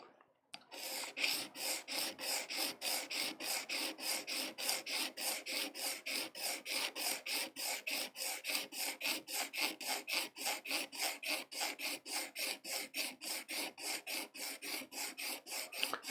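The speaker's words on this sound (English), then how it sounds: "That gives me the sharpening of this shape, and as I do so, I'm going to rock it." A printmaking carving tool being sharpened with a rocking motion, a close, even rasping scrape repeated in a fast steady rhythm of quick back-and-forth strokes, with no talk.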